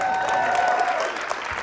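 A live comedy show crowd claps in a dense wash of applause, with a faint sustained tone running through the first half before the clapping thins slightly.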